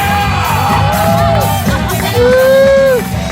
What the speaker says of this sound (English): This crowd begins to cheers.